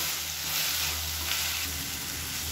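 Onions and tomatoes sauté in an open pan with a steady, dense sizzle that holds loud and continuous throughout, with no voices.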